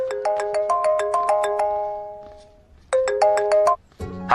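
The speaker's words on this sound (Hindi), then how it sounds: "भैया, आपको किसी का फोन आ रहा है।" An incoming call rings on a phone with a bright melodic ringtone, repeated tone bursts sounding clearly, pausing, then starting again, with no one talking over it.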